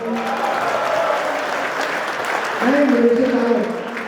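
An audience at a Republic Day poetry gathering in Riyadh claps steadily throughout, a broad wash of applause that swells near the end, while a voice speaks over it.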